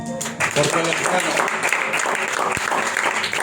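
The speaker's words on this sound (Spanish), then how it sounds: "Sigan aplaudiendo al Señor" A church congregation claps during a night of worship, steady applause running throughout beneath a preacher's voice.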